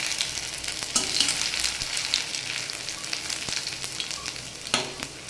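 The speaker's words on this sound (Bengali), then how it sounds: "কড়াইয়ে তেল দিয়েছি। তেল দিয়ে আমি এখানে একটু থেতো করা আদা দিয়ে দিচ্ছি।" Crushed ginger fries in hot oil in a wok for a vegetarian banana-flower dish, giving a steady close sizzle with a few sharp clinks and scrapes of stirring, no voices.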